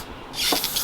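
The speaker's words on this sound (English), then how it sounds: "We're going to spray paint the washer that's going on the positive red" A red spray paint can hisses briefly onto a battery washer for a DIY camping backup battery, a short broadband burst of spray.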